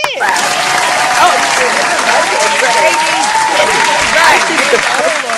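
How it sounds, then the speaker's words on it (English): A crowd claps for the guests at the taping of a podcast, giving loud, dense, continuous applause for several seconds with cheers and voices mixed in. "we need to give the girls a hand clap, Michelle."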